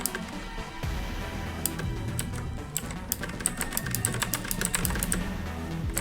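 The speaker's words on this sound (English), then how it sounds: "I have a mechanical keyboard and it's hard to do this without making any noise" Rapid clicking keystrokes from a mechanical computer keyboard, close and fairly loud, in irregular bursts over a low rumbling background with no voices.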